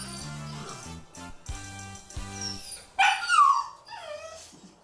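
A dog whimpers and whines in short, high cries, then lets out a few louder yelping barks, close by with pauses between.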